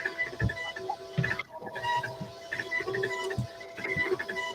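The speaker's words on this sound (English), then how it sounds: "That printer sounds sick." A printer running with a faulty, sick-sounding mechanism, giving off irregular whirring, ticking and squeaky tonal chirps at moderate loudness, with no voices.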